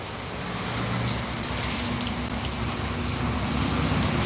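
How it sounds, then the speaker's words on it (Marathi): Light rain falls in the Konkan countryside, a steady even hiss of drops on the ground that stays unbroken throughout with no one speaking. "कोकणातला पाऊस कसा झिरझिर झिरझिर पडतोय"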